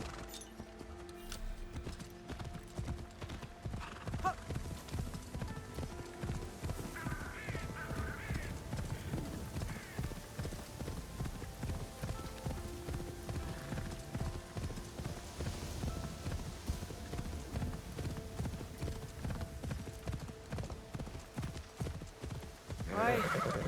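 A horse in Assassin's Creed Shadows clip-clops along in a steady rhythmic trot, with occasional neighs and whinnies and crow caws in the background, the game sounds running continuously at moderate level.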